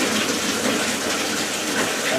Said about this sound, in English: You got to pre-fill it with water.